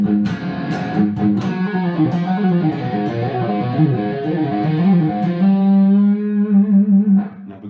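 Electric guitar played through an amp with the gain raised, giving a distorted, overdriven tone as chords and single notes ring out, ending on a sustained held note.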